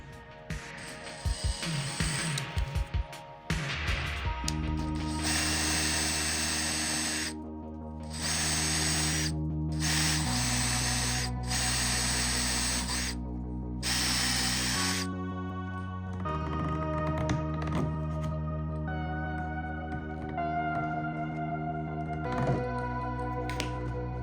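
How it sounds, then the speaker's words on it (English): A power drill whines loudly in long bursts, pausing briefly between runs, its pitch shifting as it bores small pilot holes for a RANS S-21 aircraft fuel tank. "So I'll drill me a pilot, just a small pilot, just to make sure this doesn't wander on me"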